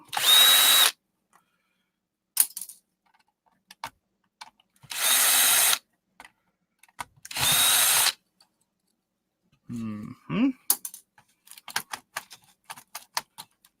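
A power drill undoes screws on scrap electronics, with three loud whirring bursts at close range, then short rattling taps and clicks as screws come loose.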